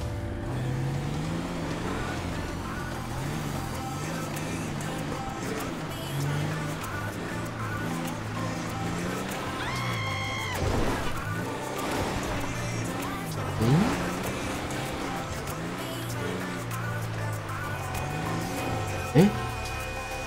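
A modded monster truck engine in GTA5 drones and revs steadily through an off-road run, with brief surges, scrapes and a sharp thump near the end, while a voice talks over it.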